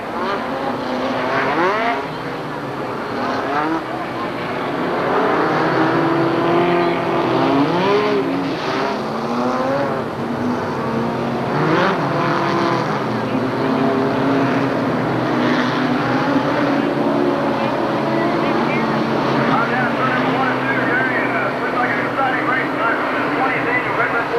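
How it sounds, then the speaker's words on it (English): Fast race cars roaring past turn 1 at the 1986 ASA Redbud 400, a loud continuous engine wash with rising and falling passes, while a commentator's voice talks over the din. "all the fast cars coming down here, turn 1"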